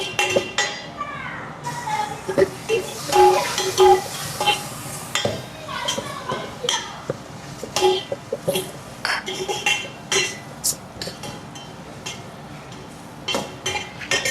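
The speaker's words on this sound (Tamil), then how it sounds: "மஞ்சள் மிளகா பொடியும் போட்டு ஒரு கிண்டு" Onions stirred with turmeric and chili powder in a pan, the spoon scraping and clinking against the metal in irregular strokes over a soft sizzle, with occasional speech in between.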